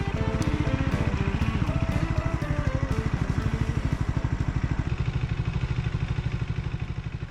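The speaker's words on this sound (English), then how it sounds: "as I accelerate up to speed to try to enter the highway" Triumph Scrambler 400 X single-cylinder motorcycle accelerating onto a highway, a loud, rapidly pulsing engine note climbing through the gears with brief shift breaks, recorded up close with steady wind.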